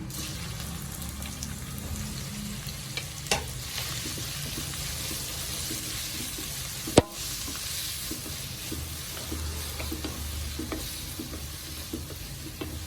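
Green chillies and onion fry in hot oil in a pan with a steady, even sizzle that lasts throughout. A couple of sharp knocks and light stirring scrapes sit on top of it, and no one speaks.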